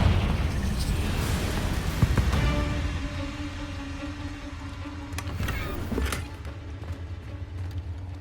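Confringo blasting curse going off in Hogwarts Legacy: a loud, sustained explosive roar with booming low-end bursts, then fading rumble and a couple of sharper crackling blasts later on.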